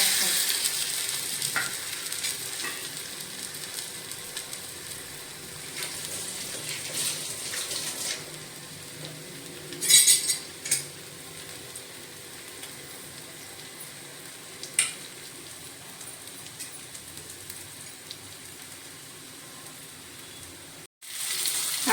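Floured bangda mackerel fries in oil with a continuous soft sizzle, a few louder crackling spurts along the way and a brief clatter near the end.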